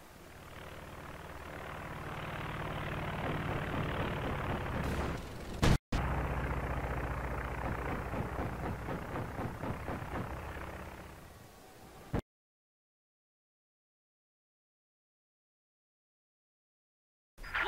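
Recon aircraft overflight in Company of Heroes 2, a propeller-engine drone building and holding loudly for several seconds, a brief cut, then continuing before silence.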